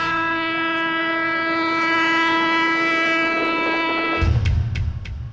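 A train on the Indupur railway line beside a factory sounds a long, loud, sustained horn for about four seconds before giving way to the heavy rumble and clatter of the passing cars.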